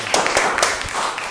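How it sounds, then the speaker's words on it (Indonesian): Scattered hand claps come from a small audience for Aditya Wahyudi at a show, a quick, close, uneven burst of clapping lasting about a second with little else around it. "Ya, tepuk tangan buat Aditya Aditya."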